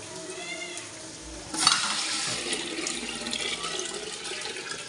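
Water pours into a cooking pot at a village home, four measures for two kilos of biryani rice. A steady splashing rush starts about a third of the way in and continues close and fairly loud, with no talking.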